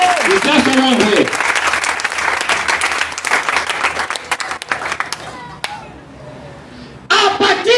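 A church congregation bursts into loud, sustained applause and clapping for Jesus during a Sunday service, dense and close, fading briefly before a fresh burst of claps near the end, with voices mixed in.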